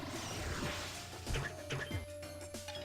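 Super pike balls smashing objects in the platform game Shantae, a few quick crashing thwacks over busy game music.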